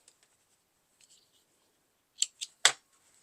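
Scissors snip loose threads on a finished fabric bowl cozy: three quick, close cuts in a row at the end, preceded by faint small handling noises, with no talking.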